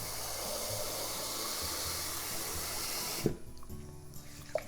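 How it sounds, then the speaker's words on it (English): Water pours steadily from a tap into a bowl of rice for rinsing, a constant splashing hiss that stops abruptly, followed by a few small clinks. "Put some water."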